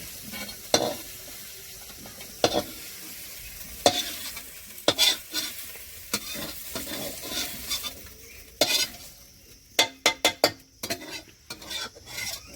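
Okra (bhindi) frying in a pan and being stirred, its soft sizzle broken by repeated sharp scrapes and clinks of a spatula against the pan, irregular at first and then in a quick burst near the end.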